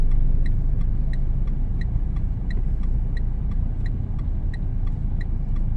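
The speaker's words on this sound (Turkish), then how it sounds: "Şimdi yavaş yavaş debriyajda geliyorum." A car creeps slowly forward in clutch on a city driving route, its low engine rumble steady and close throughout, with a regular clicking of the hazard flasher ticking over it and no talking.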